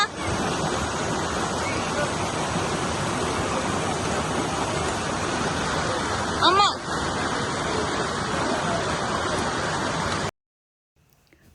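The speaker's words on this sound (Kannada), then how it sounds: "ಸದ್ದುಗದ್ದಲದ ಈ ನದಿ ಆಕಾಶಗಾಮಿನಿ" The noisy Akashkamini river rushes through the Himalayas as a loud, steady roar of churning water close by, with a brief word spoken over it before the sound cuts out abruptly near the end.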